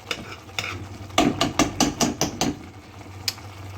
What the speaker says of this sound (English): you need to scrape it off from the sides, because it starts get sticking there